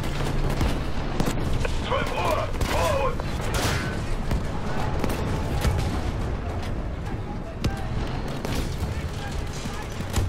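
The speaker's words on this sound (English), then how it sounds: "Okay, who's firing at me over here?" Gunfire in the World War II shooter Battlefield V: dense, continuous bursts and shots with booming explosions, loud and close throughout, mixed with game effects and voices talking over the battle.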